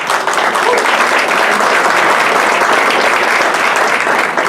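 An audience at a public gathering in Brasília gives a sustained round of applause, dense and loud from start to finish with no pauses.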